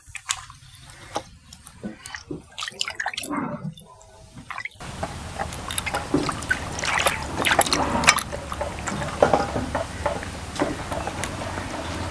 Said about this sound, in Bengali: এখন আমি মাছটাকে খুব ভালো করে একটু ধুয়ে নেব